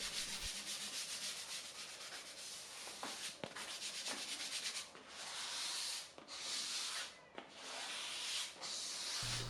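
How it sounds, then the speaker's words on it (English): Steady scratchy rubbing of a 600 grit sanding sponge on a painted dresser top between coats, in long back-and-forth strokes with brief pauses, close and fairly quiet, no talking. "I use a 600 grit sanding sponge just to sand the top down before the next coat"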